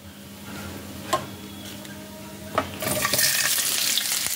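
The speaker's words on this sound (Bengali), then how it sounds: "এবার আমি তেলের মধ্যে দিয়ে দিচ্ছি কেটে রাখা পেঁয়াজ।" Chopped onions hit hot spiced oil for a small-potato aloo dum: a couple of clanks and a quiet simmer, then a sudden bright burst of loud, sustained sizzling up close, with no talking.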